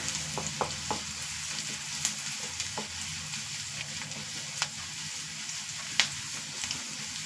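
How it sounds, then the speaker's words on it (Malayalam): Shallots and a dried red chili frying in oil until brown while being stirred, a constant close sizzle with occasional sharp clicks and scrapes of the spoon against the pan, no voices. "ഇതൊന്ന് ബ്രൗൺ കളറാവുന്നത് വരെ ഒന്ന് ഇളക്കി കൊടുക്കാം"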